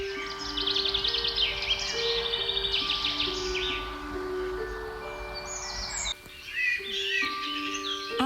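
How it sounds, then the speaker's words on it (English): Songbirds chirp and warble steadily beside a chateau moat, with many bright overlapping calls and trills mixed into a busy outdoor chorus, near and far. "listen to the birds"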